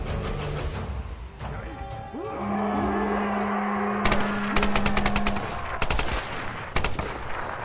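Gunfire in the Tomb Raider video game: rapid bursts of sharp shots in quick clusters over ambient game noise and a sustained tone, fairly loud and close.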